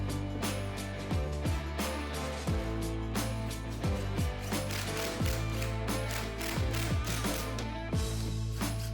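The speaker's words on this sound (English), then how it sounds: "I like to clamp it together" Clamps are ratcheted tight on glued pocket-hole boards for a garden wash tabletop, a series of close clicking ratchet and creaking sounds repeating irregularly at a moderate level.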